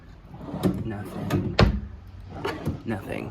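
Drawers are opened and shut in a hotel bedroom, giving several sharp wooden knocks and slides spaced across a few seconds while a person talks.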